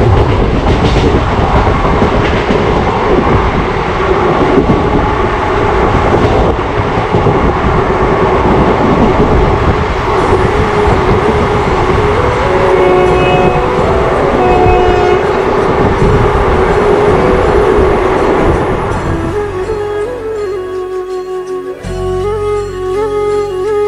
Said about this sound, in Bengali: আমাদের ট্রেন এখন আবার নিজস্ব গতিতে ছুটে চলেছে